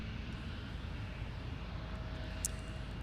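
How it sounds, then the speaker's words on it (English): A SkyWest Embraer E175LR airliner landing, heard as a steady, distant low jet rumble with no talk over it. "So that was SkyWest from Sioux Falls, the Embraer E175LR."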